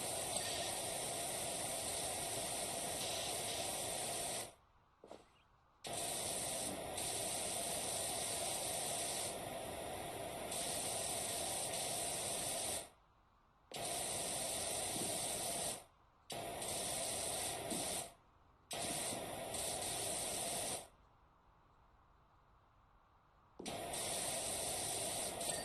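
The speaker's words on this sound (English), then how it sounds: "Pull out the bigger sprayer." Loud, steady hiss of a pressure washer sprayer in PowerWash Simulator, running in long continuous bursts broken by a few short pauses and one longer gap of near silence.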